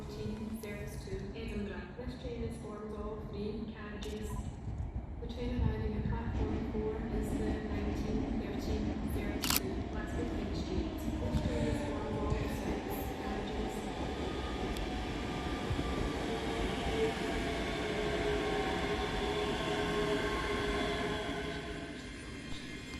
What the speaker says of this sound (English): Arriving on the far side is 385045 with the 1914 Scotrail service from Alloa to Edinburgh Waverley.